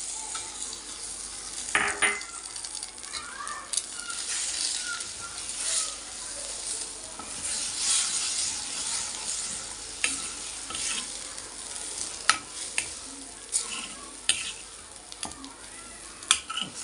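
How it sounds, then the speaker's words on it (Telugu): Beaten eggs and semiya (vermicelli) fry slowly in a pan while being stirred, giving a steady close sizzle broken by scattered scraping clicks and taps from the spoon. "ఒకసారి మొత్తం కలిసి తిప్పేసి ఆపేద్దాం. ఇట్లా నిదానంగా వేయించుకోవాలన్నమాట."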